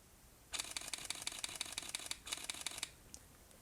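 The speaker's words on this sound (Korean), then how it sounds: "이렇게 해서 총 4대 셔터음 ASMR을 진행해 보았고요" Rapid camera shutter firing in high-plus continuous burst mode at about ten frames per second, two close, crisp bursts of fast mechanical clicks with a short gap between them, alone in a quiet room.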